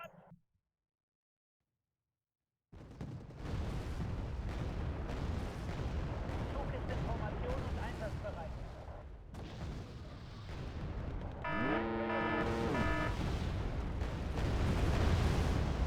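Mortar fire and explosions in the real-time strategy game Wargame: Red Dragon, a series of booming blasts and bursts following a brief silence, with a tonal in-game alert near the end.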